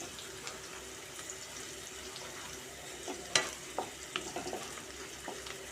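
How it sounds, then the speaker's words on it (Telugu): Onions, green chillies and curry leaves fry in oil with mustard and cumin seeds for a spiny gourd curry, giving a faint, steady sizzle with a few light clinks and scrapes of stirring partway through. "ఉల్లిపాయలు పచ్చిమిరపకాయలు కొంచెం కరివేపాకు వేసి కొంచెం ఇలా ఫ్రై చేసుకోవాలి"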